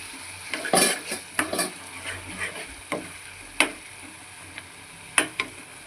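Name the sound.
green chillies and mint frying in oil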